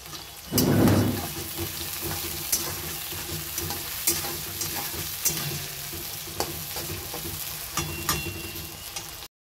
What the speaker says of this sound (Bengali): এই দেখো পেঁয়াজটাকে ভালো করে ভেজে নিব